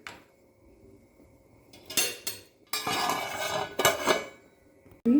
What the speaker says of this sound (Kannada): ಪುಂಡಿಗೆ ರೆಡಿ ಮಾಡುವ ಒಂದು ಪಾತ್ರೆ ಇಟ್ಟಿದ್ದೀನಿ ಗ್ಯಾಸ್ ಮೇಲೆ